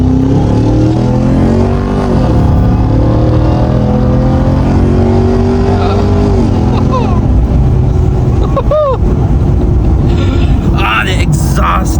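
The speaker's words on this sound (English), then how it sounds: "Exhaust is so nice." A Ram 1500 TRX pickup's engine and exhaust roar loudly close up, with rising and falling revs as the truck accelerates and shifts, and sharp crackles near the end, mixed with voices.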